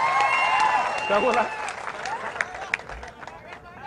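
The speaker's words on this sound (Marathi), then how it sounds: "नितेश राणेंचं टाळ्या वाजवून जरा अभिनंदन करा" An audience at a political rally breaks into applause, a burst of clapping and crowd noise that fades out under a man's loud amplified speech.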